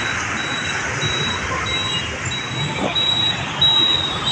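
Metro train at Jubilee Hills checkpost metro station in Hyderabad, a steady broadband rumble of rail noise with a thin high whine running throughout and a slight swell near the end, no voices.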